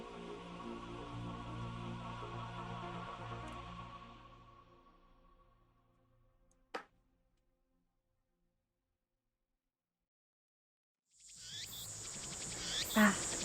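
Loud, steady cicada drone from the Steins;Gate game fades out over several seconds, leaving a single sharp click and a stretch of near silence before a bright, buzzing cicada chorus swells back in.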